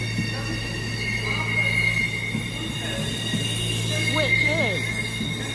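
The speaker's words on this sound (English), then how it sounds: "Arriving in now is the Pennine Express service from Carlisle to Morpeth" The Pennine Express train, a 158-class diesel unit from Carlisle to Morpeth, arrives at Newcastle station with a steady low engine drone and squealing wheels on the rails; a voice speaks briefly over it.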